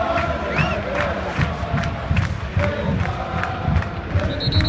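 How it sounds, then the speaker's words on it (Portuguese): A large stadium crowd roars and chants for Neymar, a dense and sustained wall of voices with rhythmic swells, loud and far-reaching throughout. "A torcida, eles começam a pedir Neymar"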